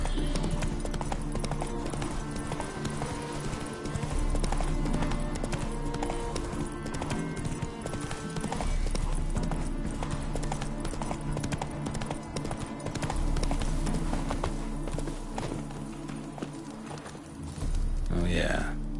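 Roach the horse trotting in The Witcher 3 on PS5, steady clip-clop hoofbeats running under game music and character voices throughout, fairly loud and close.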